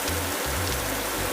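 Heavy storm rain pounds a car heading south on Highway 177 toward Stillwater, a dense, steady, loud roar of drops with a low engine rumble underneath and no talking.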